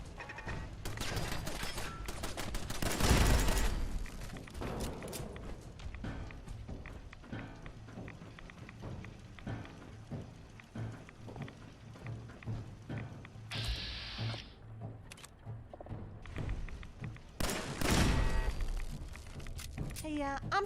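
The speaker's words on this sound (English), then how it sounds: "These gamma guns are the worst." Gamma guns firing during a combat fight in the video game Fallout 4, rapid bursts of fire in a constant busy mix with other game sounds, under brief talk.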